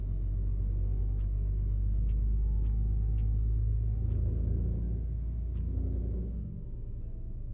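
A truck engine runs at a steady high rev, a loud continuous drone with rising and falling pitch that drops away near the end, with no talk over it.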